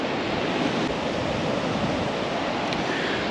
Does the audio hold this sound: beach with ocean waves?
yes